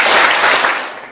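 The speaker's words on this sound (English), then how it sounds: "clap twice" A seminar audience claps twice together, a dense close group burst of hand claps that smear into each other and then trail away quietly, with no voices.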